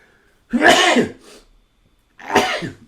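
Two harsh, throaty coughs close to the microphone, separated by a short pause, with near silence around them.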